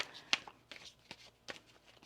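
Tarot cards shuffled in quick, soft riffling bursts, several short flutters and taps close to the microphone in a quiet room.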